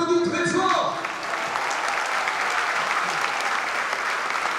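Rugby supporters of Aviron Bayonnais applauding loudly at a squad presentation for the season, sustained dense crowd clapping that follows a brief spoken announcement at the start.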